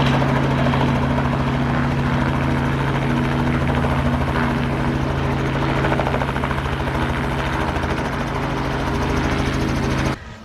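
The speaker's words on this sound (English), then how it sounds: "The helicopter is just arriving." A helicopter's rotor thumps loud and steady nearby with a constant engine drone as it arrives and lands on a lawn, holding close throughout before cutting off abruptly at the end.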